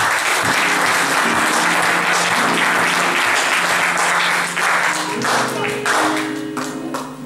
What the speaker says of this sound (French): Acclamons très fort la parole de Dieu